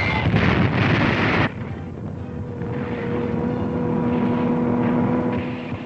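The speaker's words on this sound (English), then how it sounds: "There's a Nazi dive bomber letting one go." A German Stuka dive bomber attacks in a 1943 Tunisia WWII newsreel: a loud roaring aircraft burst for about a second and a half, then a steadier droning engine hum with wind noise continuing behind it.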